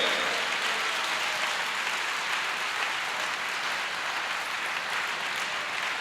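A church congregation claps continuously in a steady, dense wash of applause that holds at an even level from start to finish, with no voices standing out.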